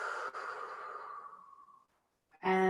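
Long breathy exhale during a mindful movement exercise, a soft audible sigh fading out over about two seconds, followed by a brief silence and a louder tonal sound at the end.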